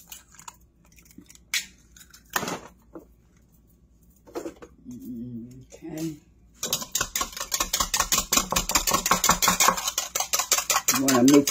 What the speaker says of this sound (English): I'm going to use this to whisk up my eggs, too.